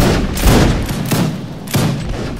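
Loud volleys of musket fire in a line battle video game, three booming bursts of massed shots spaced about a second apart, each a ragged crackle of many guns going off together.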